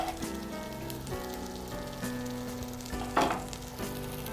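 Tomato paste is stirred into a sizzling biryani base in a pan, giving a steady close frying hiss with soft scraping movements throughout and no voices.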